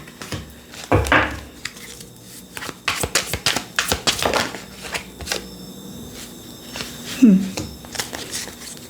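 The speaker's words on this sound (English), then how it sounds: "I'm going to reshuffle." Tarot cards being reshuffled by hand during a reading, with crisp riffling bursts and soft card slaps in irregular clusters, close up, alongside a few light knocks and handling sounds.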